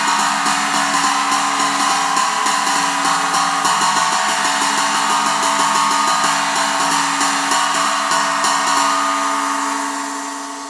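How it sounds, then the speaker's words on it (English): Steady, rapid stick taps riding on a cymbal, a continuous shimmering wash with even rhythm over several seconds, played alone and close, easing off at the end. "you might even have somebody ride on a cymbal like this"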